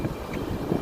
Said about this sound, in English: it's definitely getting windy